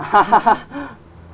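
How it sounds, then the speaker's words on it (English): Three quick harsh caws from a crow, close and loud, followed by a softer fourth call before fading into quiet. "Cue the crow."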